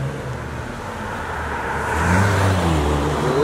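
A car engine revs up nearby, a low rumble that swells louder and deeper over the last second or two.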